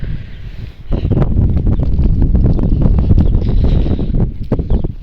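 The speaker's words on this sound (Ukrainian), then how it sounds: "Ох, і вітер свище." Strong gusty, cold April wind roars and buffets close to the microphone, rushing continuously with rustling undertones.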